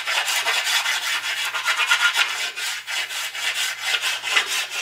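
A wooden board bow has its corners rounded off with a rasp or file: rapid, steady scraping strokes, close and continuous, with no talk.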